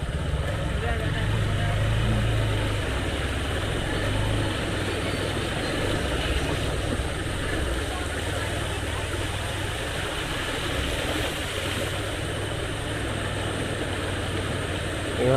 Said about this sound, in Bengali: এই বাসটা কতটা যাওয়া যাচ্ছে দেখবো।